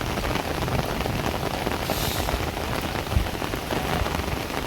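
Heavy rain pours onto a pond in a steady, dense hiss of countless drops, loud and unbroken, with no voices over it.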